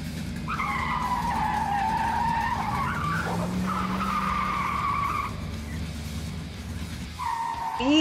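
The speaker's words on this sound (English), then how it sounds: "Gentlemen, start your engines!" Race cars in a Roblox Brookhaven racing game, with sustained tire-squealing skids and a droning engine running nearly the whole time, the squeal dropping out briefly before a final skid.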